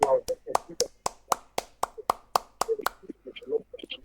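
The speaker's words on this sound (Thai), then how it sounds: "ขอเสียงปรบมือให้กับ รคไพลอตออก้าและไพลอต นิวตันหน่อยครับปรบมือครับ" Sharp audience applause rings out in a steady rhythm at an event honoring pilots, about a dozen crisp claps, with a voice talking over and between them.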